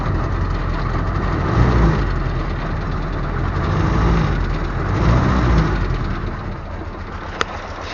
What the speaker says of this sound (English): I'll rev it up a little.